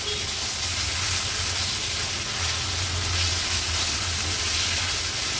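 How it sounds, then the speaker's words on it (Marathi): Ginger garlic paste sautéing in a pan with cashews and raisins for a vegetarian thali, giving a steady, moderately loud sizzle and hiss with a low rumble running underneath throughout. "आलं लसूण पेस्ट देखील व्यवस्थित आपल्याला परतून घ्यायची आहे"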